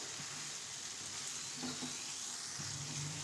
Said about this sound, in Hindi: तकरीबन 1 मिनट तक हमने मीडियम फ्लेम पर आलू बैंगन डालने के बाद भून लेना है